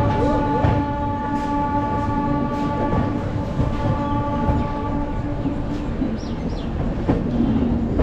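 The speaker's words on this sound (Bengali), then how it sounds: "সঠিক টাইমেই আমাদের ট্রেন শালিমার স্টেশন থেকে ছেড়ে দিয়েছে পুরীর উদ্দেশ্যে।" Train leaving Shalimar station bound for Puri, a continuous rolling rumble of the carriages with a sustained tonal hum and short sharp squeaks near the end, heard close and steady with little talk.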